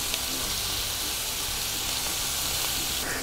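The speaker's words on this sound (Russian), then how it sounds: "Обжариваем с одной стороны, переворачиваем." Shrimp frying in a pan with thyme and garlic, giving a steady, close, fairly loud sizzle and hiss with small crackles throughout.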